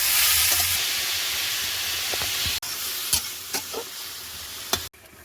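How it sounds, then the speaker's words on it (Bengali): Ash gourd frying in an oiled pan for a Bengali curry, a loud continuous sizzle with stirring clatters and a few sharp knocks, briefly cutting out twice. "ভাজা হয়ে গেছে এবার চাল কুমড়োটা দিয়ে দেবো"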